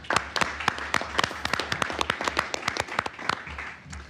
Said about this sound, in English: So let's give PSTA a big round of applause for those awards.